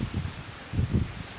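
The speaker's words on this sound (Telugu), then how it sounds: "చాలా గట్టిగా గాలి వస్తుంది." Strong wind gusts buffeting the microphone outdoors, with two loud low rumbling bursts separated by a calmer stretch, plus faint rustling.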